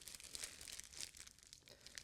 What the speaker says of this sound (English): Now you just want to take your Ziploc bag and just pop in a little bit of that melted chocolate.